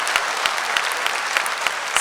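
An audience applauds at a Women's Day special debate, a dense, steady wash of clapping with a few sharper individual claps standing out, sustained throughout with no talking.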